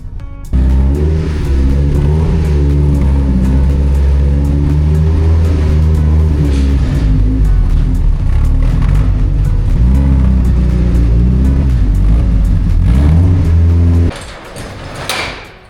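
A race car engine roars loud and close as the car rolls into a barn, holding a heavy revving drone before easing off, with a short clatter at the very end.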